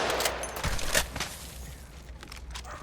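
An Alternator submachine gun fires a rapid burst in the Apex Legends video game, close and loud, then trails off into quieter ambience.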